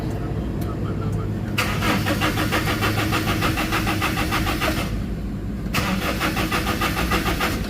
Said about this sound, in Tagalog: So makita nyo ayaw mag-start, walang reaction.